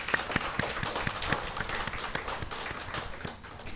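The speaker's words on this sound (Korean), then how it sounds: "우리 하나님 앞에 우리 영광의 박수를 한번 돌립시다" A church congregation at a Sunday morning service gives a round of applause, with sharp, scattered claps in a steady rhythm over a dense wash of clapping that fades slightly near the end.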